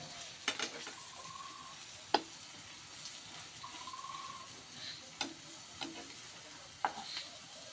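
Egg frying in a pan with potato and spices, a steady soft sizzle under a few sharp spatula taps and scrapes spaced across the clip, no talking.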